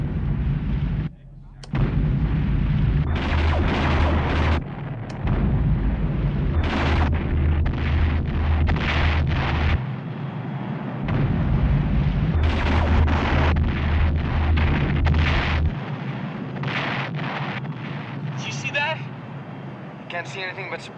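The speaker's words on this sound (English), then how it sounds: "The Pegasus is launching your missiles." Missiles explode during a space battle between the battlestar Pegasus and two Cylon basestars in the 1978 Battlestar Galactica series, sounding as loud rumbling booms and bursts with a low droning hum underneath, and voices speak throughout.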